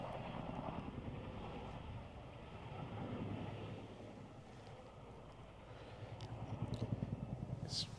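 RAF Chinook helicopter flying over Dartmoor, a steady low rumble from a distance with wind noise, rising slightly toward the end, no talking.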